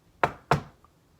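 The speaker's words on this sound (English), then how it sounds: "He raised a hand and rapped twice on the door." Two sharp knocks on a wooden bedroom door in a palace, evenly spaced and close, followed by quiet.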